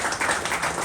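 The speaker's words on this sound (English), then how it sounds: "A big round of applause for the first game." An office farewell crowd claps after a team game, with a brief burst of dense, continuous applause at steady volume.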